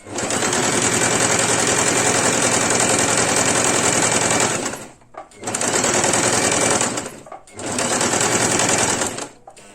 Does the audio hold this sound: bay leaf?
no